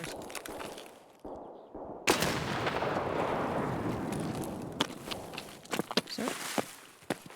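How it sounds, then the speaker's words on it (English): In Escape From Tarkov, a grenade bursts with a sudden heavy boom, followed by a long rumbling decay, then scattered sharp thuds and footsteps nearby. "I'm gonna throw another nade."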